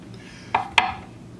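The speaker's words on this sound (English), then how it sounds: "I'm chopping these vegetables in the order we will saute them" Knife chopping vegetables such as zucchini and garlic on a cutting board while cooking, with two sharp, close knocks about a quarter second apart against a quiet kitchen background.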